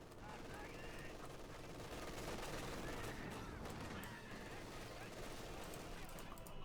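Machine gun fire in the Company of Heroes 2 real-time strategy game, a dense, continuous crackle of automatic bursts and battle noise filling the whole stretch at steady loudness, with commentary voice running under it.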